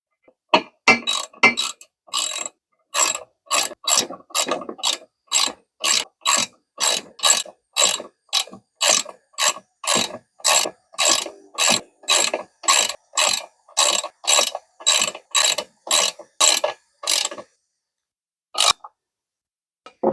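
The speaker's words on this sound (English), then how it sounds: "before you get your ratchet out" Ratchet tightening bolts on the rear rack of a 2023 Polaris Sportsman 1000, a close run of rapid clicking bursts in a steady back-and-forth rhythm, each stroke crisp and evenly spaced, ending with a couple of isolated clicks.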